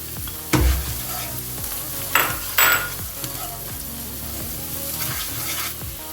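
Ginger and garlic sizzling in hot oil while frying for paneer samosa, a steady crackling hiss with a few louder stirring clatters and scrapes, close and alone.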